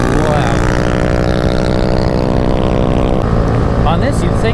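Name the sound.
Honda Grom mini motorcycle with loud Competition Werkes exhaust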